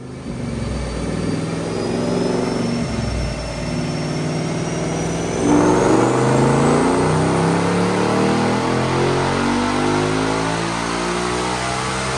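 Supercharged 2021 Ford Mustang Mach 1 with a Whipple Stage 2 supercharger, 11.5 pounds of boost, 93 octane and a manual transmission, pulling hard on a dyno. The engine roars loudly and climbs steadily in pitch with a rising supercharger whine.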